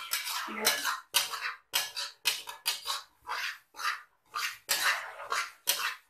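A spoon scrapes semolina halwa as it roasts in a pan, about ten short, rhythmic scraping strokes separated by brief pauses, close and fairly clear.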